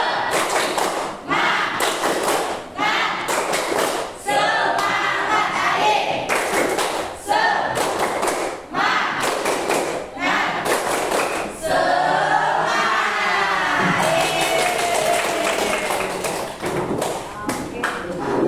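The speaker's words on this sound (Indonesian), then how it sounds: "Tepuk semangat" A classroom group of students performs a rhythmic spirit clap, patterned bursts of loud clapping in quick sequences, with voices chanting or shouting along between the beats.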